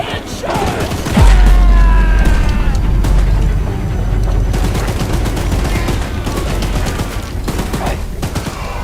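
Mounted gun firing steadily at a monstrous train in a video game, dense rapid gunfire with heavy low booms and mechanical clatter, loud and continuous throughout.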